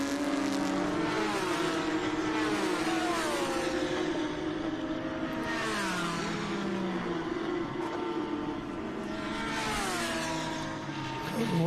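A Lamborghini race car in a road-course race, engine wailing through repeated rising and falling revs as it sweeps past nearby, with other cars' engines droning beneath.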